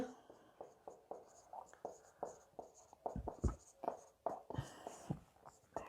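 Chalk or marker writing on a board during a physics lesson on electric current, a series of close, scratchy strokes and taps at an irregular pace, mixed with a teacher's speech.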